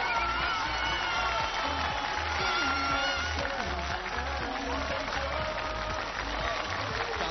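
Dense, steady applause from a large studio audience with scattered cheers and whoops, congratulating the Chengdu team at a televised choir competition final; the clapping stays loud and continuous throughout.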